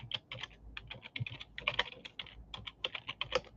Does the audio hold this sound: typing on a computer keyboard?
yes